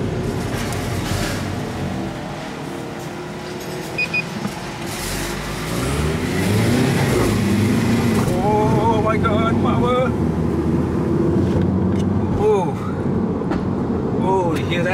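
A Mini Cooper S John Cooper Works revs hard while driving, its engine rising to a loud sustained roar under the cabin drone, with a voice talking and exclaiming over it.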